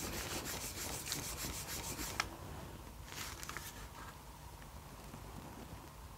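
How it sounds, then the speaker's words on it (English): A cloth rubs gently and steadily over a Sony MZ-N710 Minidisc Walkman during cleaning, a faint, close, soft scuffing that goes on throughout with a few brief sharper brushes. "Work it in gently with a cloth."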